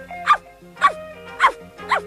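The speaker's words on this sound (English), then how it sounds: "Oh, Mum, a puppy!" A puppy yaps four times in a steady, evenly spaced rhythm, each bark short and fairly loud, over a faint sustained musical background in an animated cartoon scene.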